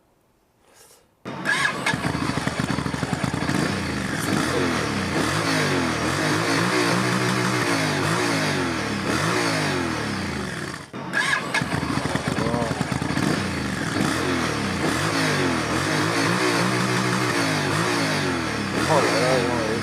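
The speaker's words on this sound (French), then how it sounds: "Ça pétarade, hein, ça. Ah, c'est un bicylindre, ça." A twin-cylinder motorcycle engine starts up and revs hard with popping backfires, loud and close, running steadily for nearly twenty seconds with a brief cut midway, while voices talk over it.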